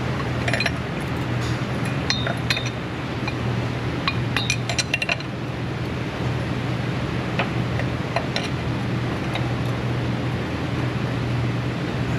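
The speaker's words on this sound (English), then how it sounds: "Wrench slippage." While fittings on an engine oil filter bypass system are being tightened, a wrench slips with several sharp metallic clinks and ticks over a constant low hum.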